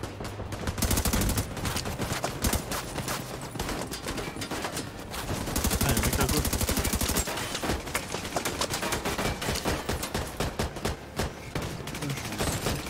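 Loud, sustained video game gunfire in a military shooter set in Washington, with dense rapid bursts and volleys running almost continuously and a heavier stretch of concentrated automatic fire midway.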